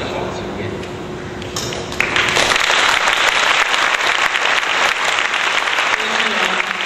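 An audience bursts into applause at a Tamkang University wind band concert, a steady and dense clapping that follows a quieter opening with a voice speaking.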